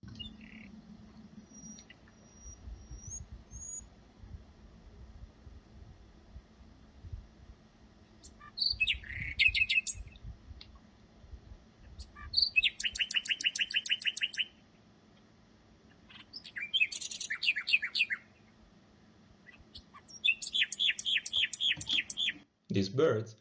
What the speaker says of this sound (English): We investigated the flexible control of vocal pitch in interacting wild nightingales, songbirds that have been praised for centuries for their singing behavior.